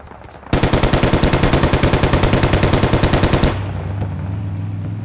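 Sustained automatic machine gun fire in the Squad video game, a loud, close, rapid burst of about thirty evenly spaced shots lasting roughly three seconds, then stopping and leaving a low rumble.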